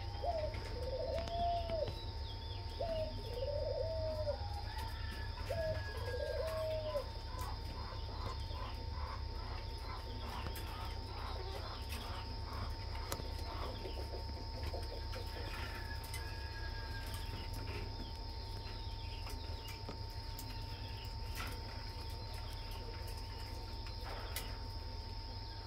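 A breeding pair of pink-breasted, red-footed doves coo in repeated soft, rounded calls, mostly in the first several seconds, over a constant low hum and insect-like chirring with no talking.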